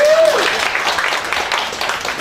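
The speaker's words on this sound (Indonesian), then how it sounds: "Tepuk tangan untuk Anda semua." Indonesian audience applauding at a professional launch event in a hall, a dense steady clapping wash over about two seconds, with a brief tonal sound at the very start.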